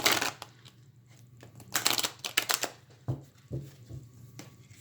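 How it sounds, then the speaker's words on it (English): A Keepers of the Light oracle card deck being shuffled by hand: quiet, close riffling bursts and soft papery slaps of cards in uneven clusters, with no talking. "Let me shuffle for a few times."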